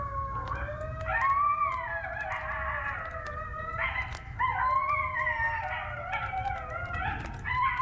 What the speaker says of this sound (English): That's coyotes.